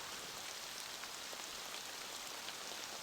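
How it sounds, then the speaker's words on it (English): Steady rain falls in an Apple Vision Pro virtual environment, a dense, even hiss of drops spattering on surfaces that continues without pause throughout. "You can see the rain falling."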